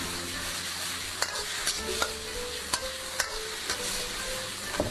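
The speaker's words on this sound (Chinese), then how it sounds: "下入香菇翻炒， 淋上生抽炒出香味。" Shiitake mushrooms stir-fry with soy sauce in a wok, a steady close sizzle broken by sharp clicks and taps of the spatula against the pan.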